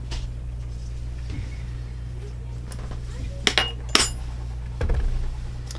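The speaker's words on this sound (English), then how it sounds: "And just give it a light little stir." A spoon stirs a yeast and sugar mixture in a bowl for homemade bread, with a few light clinks and scrapes against the side over a low steady hum, and no talk.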